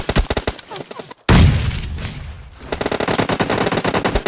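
Gunfire in the PUBG Mobile battle royale game: rapid automatic bursts crackle loudly, broken by a heavy boom, then fast repeated shots resume, with players talking over the action.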